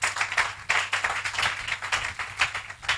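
A church congregation clapping in acclamation to the Lord during a sermon, brisk irregular handclaps from many people filling the room steadily without talk.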